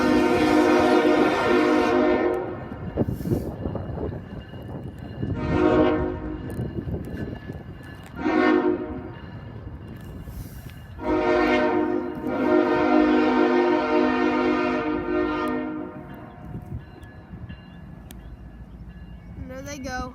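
A freight train rumbles past at close range while its horn sounds several long blasts, some overlapping, with the rolling rail noise continuing between them.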